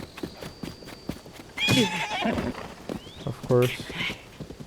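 A horse in the Zelda: Tears of the Kingdom video game clip-clops along in quick hoof beats, then gives two loud whinnies, close and prominent, while someone talks over the game sounds.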